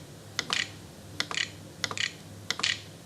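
A search is typed on a computer keyboard: four quick clusters of crisp, close key clicks, each a short burst of two or three taps, spaced at an even pace over a quiet background.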